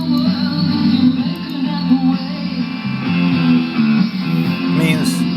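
BBC longwave broadcast on 252 kHz picked up at night through a bladeRF software radio, a steady, full-band audio signal with constant loudness and dense harmonic content throughout, no pauses.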